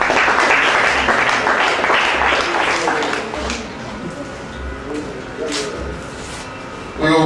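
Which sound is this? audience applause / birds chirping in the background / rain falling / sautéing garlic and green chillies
audience applause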